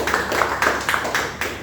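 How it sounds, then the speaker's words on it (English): A room of people at a Toastmasters meeting marking a sixth anniversary claps together, a dense, steady round of applause with regular bursts, close and fairly loud. "let us give a big round of applause for Munawar sir"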